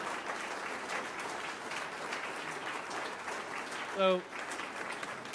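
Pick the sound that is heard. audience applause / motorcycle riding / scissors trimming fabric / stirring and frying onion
audience applause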